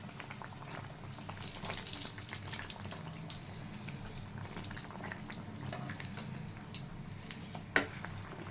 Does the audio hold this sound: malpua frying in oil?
yes